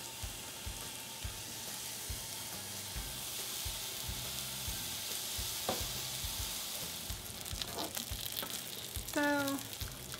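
Beef patties for Salisbury steak sizzle steadily in a pan, a constant close crackle and spit, with a few light clinks of a utensil near the end.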